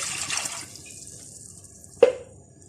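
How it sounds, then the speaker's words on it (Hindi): Water is poured briefly into a cooking pot to start sugar syrup for gulab jamun, a short splashing gush followed by quiet and a single sharp clink or drip. "इसमें 3 कप पानी डालेंगे"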